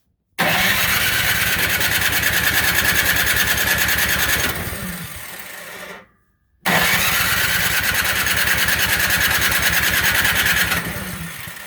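A Troy-Bilt snowblower engine, primed with starting spray, sputters to life and runs loudly at a steady rattling idle, cuts out briefly, then roars back and keeps running.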